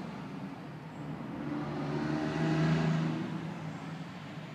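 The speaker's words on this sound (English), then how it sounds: "Cue the trucks." A heavy truck rumbles past, its low engine drone swelling to a peak midway and then fading away, with no voices.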